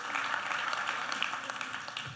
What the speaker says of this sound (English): Give them a huge warm round of applause.